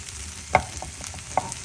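Rice frying in a pan while being stirred for khichuri, a soft low sizzle with two distinct scraping stir strokes, close and fairly quiet, no talking.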